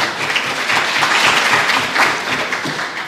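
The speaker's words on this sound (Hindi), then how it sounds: "इस पर भी एक दफ़ा भरपूर तालियाँ होनी चाहिए" An audience claps and applauds at a book launch during a mushaira poetry gathering, a dense wash of hand claps that stays full and lively for several seconds.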